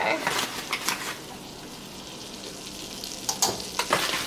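Flour is stirred into melted butter in a pan for lobster mac and cheese, making a soft continuous sizzle broken by brief scraping strokes of the utensil.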